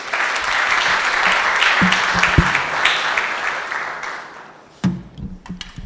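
Audience applause at a science and technology innovation challenge closing ceremony, welcoming the keynote speaker, a steady dense wash of clapping for several seconds that fades out, followed by a few scattered late claps.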